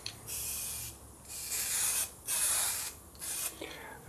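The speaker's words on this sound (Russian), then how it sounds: "эпоксидным грунтом, с баллончика можно перекрыть" Epoxy primer is sprayed from an aerosol can in several close, hissing bursts of about a second each, separated by short pauses, fairly quiet overall.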